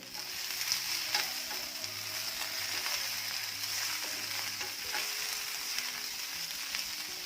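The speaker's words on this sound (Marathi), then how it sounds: "मध्यम आचेवर भेंडी सगळ्या बाजूने छान अशी भाजून घ्यायची आहे" Okra (bhindi) roasts in a pan over a medium flame, giving a steady, soft sizzle and crackle throughout with faint stirring, quiet and close with no voices.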